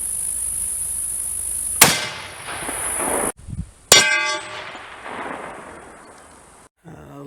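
A 6.5 Creedmoor Aguila 147-grain full metal jacket bullet strikes a level 3 steel body-armor plate: two sharp, loud metallic clangs about two seconds apart, each ringing briefly before fading.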